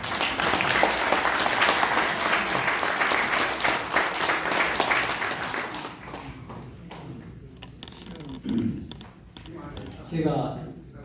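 Audience applause welcoming a poet speaker to the podium at a Korean panel event, dense clapping for about six seconds that thins out and stops, followed by a few handling sounds and a brief voice.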